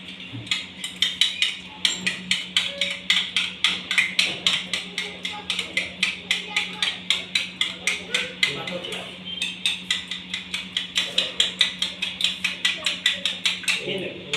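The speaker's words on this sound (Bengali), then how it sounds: "এরপর আমি ডিমটাকে ফেটিয়ে নেব" Eggs beaten by hand in a bowl while making paneer cutlets: a fast, steady run of close, crisp clinking strokes that keeps going with little pause.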